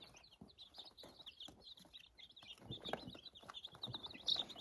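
Young chicks kept in an outdoor pen clucking and cheeping, faint and repeated in a soft, irregular chorus, with no voices.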